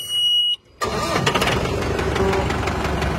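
A car engine cranks after a brief pause and fires up, settling into a steady, loud idle rumble close by.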